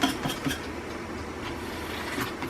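A spoon stirring custard cream in a hot saucepan, with light metallic clinks and scraping against the pan, a few sharper taps early on over a steady low hiss.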